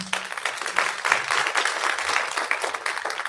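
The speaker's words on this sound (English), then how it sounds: "Can you give her a round of applause" An audience at a society report launch event breaks into a round of applause, a dense patter of many hands clapping steadily from start to finish with no one speaking over it.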